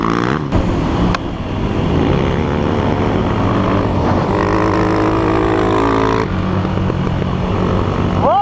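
Yamaha YZ 250 and other dirt bikes rev hard through a forest trail, a loud continuous engine drone rising and falling with throttle blips throughout.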